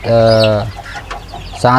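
Farm chickens being fed azolla call out loudly in two close, harmonic bursts, one long and one brief, separated by a quieter gap of low background noise.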